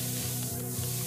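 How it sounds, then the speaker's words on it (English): A continuous hiss of bug spray in Bluey The Video Game, one steady spray lasting the full moment over a low musical background. "Quick! The bug spray!"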